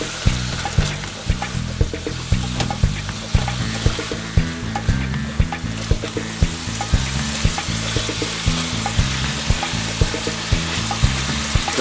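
Beef for Korean bibimbap fries in a pan, a loud continuous close sizzle with regular scraping thumps of stirring, no talking.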